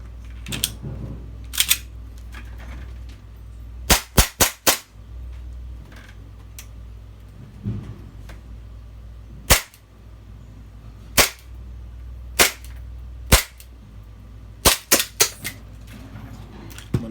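A WE 1911A1 gas airsoft pistol, just repaired after a broken magazine follower, fires a series of sharp, loud snapping shots, some single and some in quick bursts of two or three, spaced across quiet room tone.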